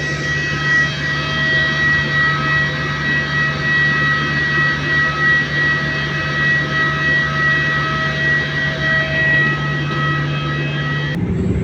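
A steady, loud roar of airplane cabin noise in flight, constant engine drone with a low hum, ending in a brief click.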